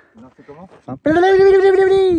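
A hiker on the GR20 trail in Corsica speaks briefly, then a voice gives a loud, drawn-out bleating call that imitates goats.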